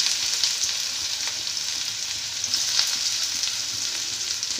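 Chopped onion and nigella seeds crackle in hot oil, making a bright, dense, continuous sizzle heard up close, with small pops scattered through the hiss and no voices.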